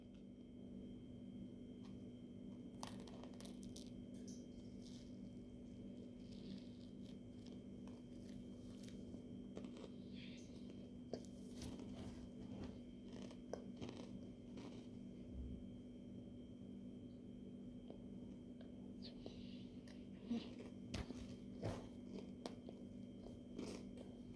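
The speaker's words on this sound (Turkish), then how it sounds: "Şöyle ekmeğin arasına koydum gibi kapatıyoruz ekmeği. Isırıyoruz." Bread wrapped around a cheese stick bitten into, giving several faint, scattered crunches and chewing sounds over a steady low background hum, with no talk.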